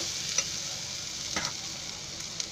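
Steady sizzling in a hot pan with a few soft scraping strokes as sprouted horse gram and tomatoes are stirred, close and fairly quiet, with no voices.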